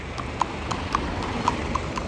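Horse hooves clip-clopping on a stone path in Petra, Jordan, a steady run of sharp, fairly close hoof strikes over a busy outdoor background, with no talking.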